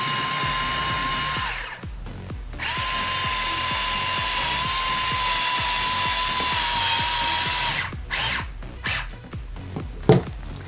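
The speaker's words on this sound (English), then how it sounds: "then I push it as it goes through into the PVC, and then it locks itself down as it pulls the threads into the PVC" A power driver runs screws into PVC pipe, giving a sustained, high-pitched whine that is close and loud. A short pause breaks it, then it ends with several brief bursts and clicks.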